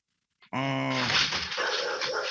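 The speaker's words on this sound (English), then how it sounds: "those are my dogs bugging" Dogs in the house go off near a podcast microphone with a sudden loud burst of barking and whining that keeps going without a break, and no speech over it.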